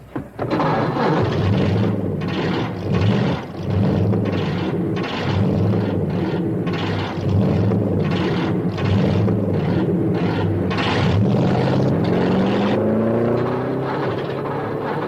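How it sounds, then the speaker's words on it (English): Several car engines running together at a racecourse in a classic TV comedy, a loud continuous mechanical drone with rising revving pitch toward the end, steady and close. "Gentlemen, start your engines."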